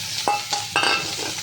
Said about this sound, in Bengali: এইবারে আমি লতিটা সেদ্ধ করা লতিটা দিয়ে দিচ্ছি